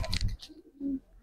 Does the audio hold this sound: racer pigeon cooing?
yes